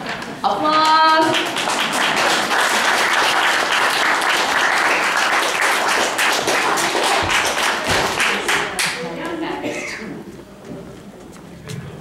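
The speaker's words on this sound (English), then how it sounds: "Applause." Audience at a charity stand-up comedy event claps loudly and steadily for around ten seconds, with scattered whoops, before the applause thins out and fades.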